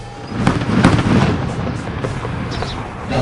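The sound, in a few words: artillery cannon fire at firing range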